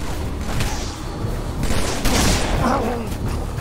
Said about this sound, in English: Ow, shotgun to the face hurt.